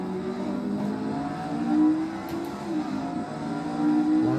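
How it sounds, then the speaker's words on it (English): Lotus 49 slot car whining around a track, its electric motor buzzing steadily with rising and falling pitch as the wheels spin, close and continuous. "Lots of wheel spin"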